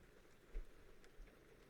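Rain falls into puddles outside on a grey day as a faint, steady patter and hiss, with a couple of slightly louder drips standing out.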